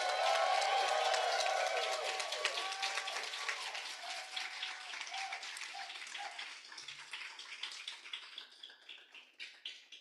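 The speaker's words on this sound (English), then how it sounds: "Please give a huge, huge applause." An audience at an anti-war divestment talk applauds, loud at first and then thinning into scattered, distinct claps as the applause fades out.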